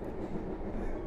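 Steady rumble of the Serayu economy-class passenger train in motion, a continuous loud roar of wheels and carriage noise throughout, heard from inside the car.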